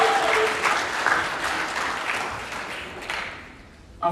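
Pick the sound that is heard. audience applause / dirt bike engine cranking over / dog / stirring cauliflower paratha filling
audience applause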